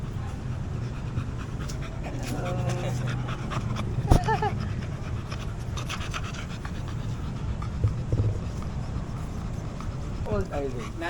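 Two nine-year-old senior beagles pant steadily at close range, with a few soft whimpers and paw taps, while people talk over them.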